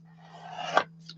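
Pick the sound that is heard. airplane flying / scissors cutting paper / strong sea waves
scissors cutting paper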